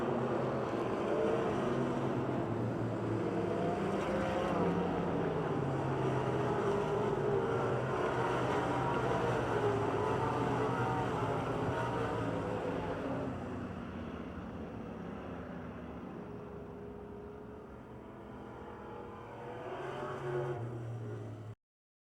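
Race cars roar past through turn 4 of Pennsylvania Motor Speedway near Pittsburgh, engines loud and sustained, then fading as the pack moves away before a brief swell near the end.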